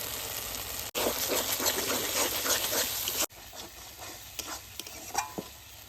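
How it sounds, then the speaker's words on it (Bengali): Spices cook in a pan with dried red chilli paste, cashew paste, salt and turmeric. A loud, dense sizzle and stirring run for a few seconds, then drop to a quieter simmer with scattered spoon clinks. No one talks. "মশলা ভালো করে কষিয়ে নিয়েছি"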